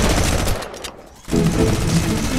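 Point-blank shotgun blasts in Fortnite during a snow storm event form a dense, loud barrage of gunfire that drops off briefly midway, then resumes just as heavy.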